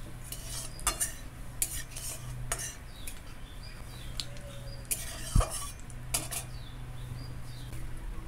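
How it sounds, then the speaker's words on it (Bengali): Cumin, bay leaf, dried chilli and whole garam masala frying in oil for a Bengali rui fish curry, a low sizzle under repeated metallic clinks and scrapes of a spatula against the pan, close and fairly quiet. "জিরে, তেজপাতা, শুকনো লঙ্কা, গোটা গরম মশলা ভালো করে ভেজে নেব"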